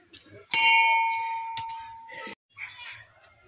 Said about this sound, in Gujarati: ઘંટડી વગાડે